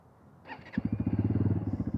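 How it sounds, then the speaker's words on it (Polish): A QJ SRT 125 DX motorcycle starts up: a brief electric whir from the starter, then the small single-cylinder engine catches and settles into a quick, even putter, close by. "Możemy motocykl odpalić."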